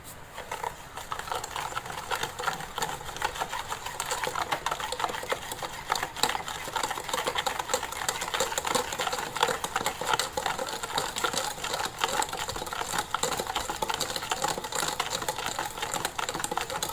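An electric hand beater whirs steadily while whisking sugar into batter, a continuous buzzing drone that holds at an even level throughout with no talking.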